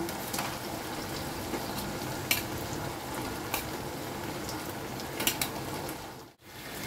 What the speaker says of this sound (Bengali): রাখা আলুগুলো দিয়ে দেব।